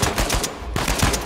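Machine gun fire from Uncharted 4 rattles out in rapid, loud bursts, close and alone, with a brief gap before the shots resume.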